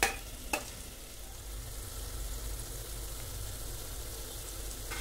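Tomatoes frying in a pan for chicken dum biryani give a steady, fairly quiet sizzle that runs throughout, with one brief sharp clack near the start and no voices.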